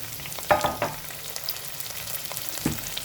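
Curry leaves and onion spluttering in hot oil for a cluster bean curry, with a few sharp crackling pops standing out over a low, steady sizzle; close by and no one speaking.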